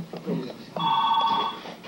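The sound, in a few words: telephone ringing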